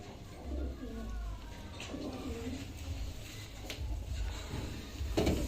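Pigeons of an old breed coo softly in a loft, low murmuring calls repeating across a few seconds amid faint rustling and shuffling, fairly quiet and close.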